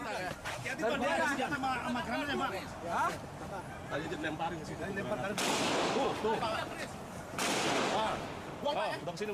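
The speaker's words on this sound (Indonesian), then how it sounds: "Tak jauh dari lokasi ledakan, polisi terlibat baku tembak." Police trade gunfire in central Jakarta near a bomb blast site by a shopping centre during a terror attack. Several sharp, loud bursts crack out amid tense crowd chatter and people talking nearby.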